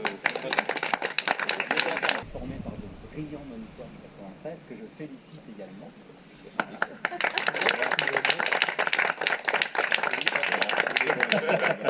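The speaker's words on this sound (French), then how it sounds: "vous pouvez les applaudir" Audience applause and clapping at a diving instructor course final in Corsica, a dense burst of many hands at the start and again through the latter half, with someone speaking over it in between.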